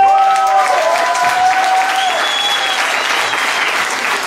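An audience at a song and festival event in Svilengrad applauds in a dense, loud, steady wash of clapping, with a few whistles and voices mixed in.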